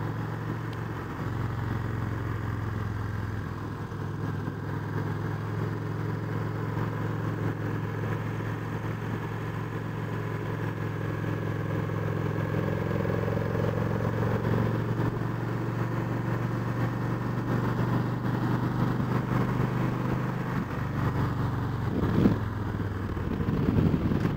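A motorcycle riding through an S-curve on a test ride after work on the bike, with a steady, loud engine drone and wind rush throughout and slight rises in pitch toward the end.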